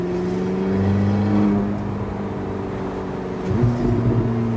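Porsche 918 Spyder hybrid supercar with an 887-horsepower engine, a steady loud engine drone with clear rising harmonics, swelling as the throttle opens near the end, close and without speech.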